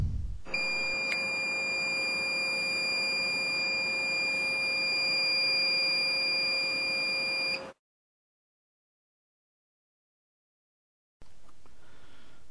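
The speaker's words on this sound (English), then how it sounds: "When you hear the beep, your mug is ready." Electric mug heat press sounding its ready signal, a long steady electronic beep with sharp tonal pitch held for several seconds, then silence before a faint hiss of room noise returns.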